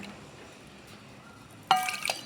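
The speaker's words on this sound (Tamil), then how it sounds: "ஒரு கப்பு ரவைக்கு ரெண்டு கப்பு தண்ணி ஊற்றிக்கலாம்" After near silence, water splashes briefly into a bowl of semolina, a short close burst of pouring and sloshing.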